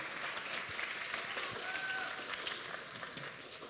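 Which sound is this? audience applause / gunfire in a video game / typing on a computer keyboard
audience applause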